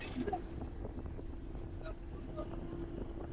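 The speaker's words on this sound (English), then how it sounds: "We're on the ferry to Sathorn now." Engine hum and wind buffeting aboard a river ferry running from Icon Siam to Sathorn Pier in Bangkok, a low steady drone with gusty rustle and faint voices nearby.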